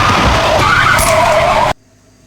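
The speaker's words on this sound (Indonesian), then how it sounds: "akibat Jen tidak fokus nyetir karena digoda si Mitun, mereka menabrak perempuan tak dikenal" A car skids in a horror film, with a loud, close screech of tires that ends in an abrupt cutoff to near silence.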